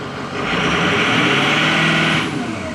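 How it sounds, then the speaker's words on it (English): A 2007 Ford F250 pickup with a 6.0 Powerstroke diesel engine is revved once. A loud, close engine note swells, holds for about two seconds and then settles, with no talk over it. "I'm gonna give it a little bit of a rev."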